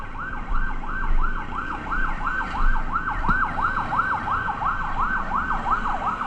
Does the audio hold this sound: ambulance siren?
yes